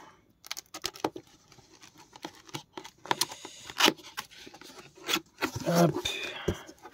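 Cardboard box holding a Dragon Ball figure of Ultimate Gohan being opened, with scattered crinkles, taps and tearing rustles of cardboard and packaging, a few close louder scrapes near the end, while a voice speaks over it.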